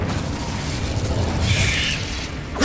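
An Incendio fire spell blasting in Hogwarts Legacy, a dense rumbling whoosh of flame that swells in the middle and fades, fairly close and loud.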